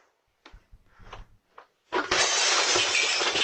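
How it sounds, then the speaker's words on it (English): A few light knocks and bumps, then window glass shatters loudly and close as someone crashes through it, followed by a sustained crash of breaking shards. "Somebody just crashed through the window"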